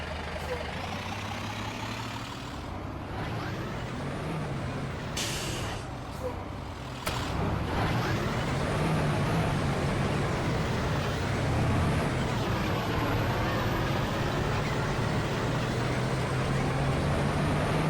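A 2005 IC CE300 bus with an International DT466E diesel engine rumbles steadily at idle, with a sharp hiss of air release and a clatter partway through.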